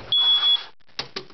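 Indoor fire alarm tone, a steady high beep held for about half a second, loud and close, followed by a pause and two short clipped chirps.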